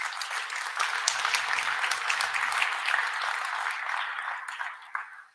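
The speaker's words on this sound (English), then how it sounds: "That deserves a round of applause." A civic crowd at a city's State of the City address applauds steadily for about five seconds, a dense broadband wash of clapping that tapers off at the end, with some low murmuring partway through.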